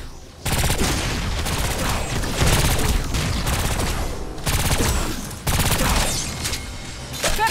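Rifle fire in the video game Agents of Mayhem: loud, dense bursts of rapid shots with booming impacts, broken by short pauses, with a character's voice talking between and under the gunfire.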